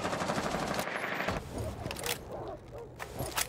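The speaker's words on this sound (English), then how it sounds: "Bullets soar from the Maverick" Gunfire from Maverick in a Rainbow Six Siege esports match, a dense rattling automatic burst that fills the first second and a half, then thinner scattered shots and clatter while a caster talks over the action.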